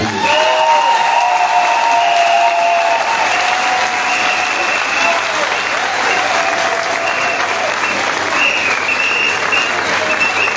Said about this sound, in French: Je vous demande de vous lever et d'applaudir Barreau Chambrier